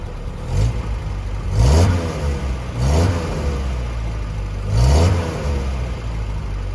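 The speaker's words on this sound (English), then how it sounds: "have a listen to the engine being revved" Triumph 1500 engine in a 1950s Paramount Roadster, heard from the rear, rising in three or four sharp revs over a steady idle, close and fairly loud with no talking.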